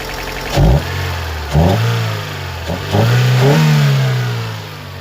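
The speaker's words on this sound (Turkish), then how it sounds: "Gördüğünüz gibi çok zevkli Japonların gaz kelebeği sesi" A 1994 Toyota Corona 2.0 GLi engine is revved by hand at the throttle: four loud, close blips climb from idle and fall back, the last held longer, with a steady idle hum between them and no talking.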